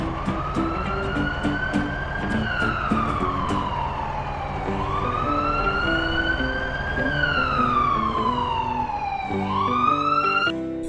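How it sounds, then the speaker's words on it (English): Fire truck siren sweeping slowly up and down in long wails over a rumbling engine, loud and near for the whole stretch. "Fire truck."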